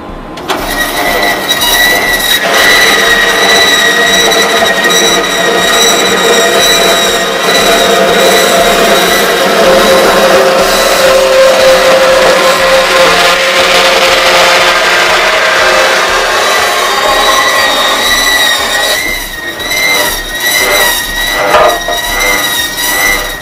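A power saw with a blade of 12 teeth per inch or fewer cuts through a chrome-plated part for an adhesion test, making a loud, sustained, harsh grinding whine with shifting pitch and no talk.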